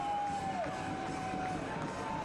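Soccer stadium crowd roaring and cheering steadily after an equalizing goal in a Sacramento Republic FC vs. Oakland Roots SC match, a dense wash of noise with a commentator's voice over it.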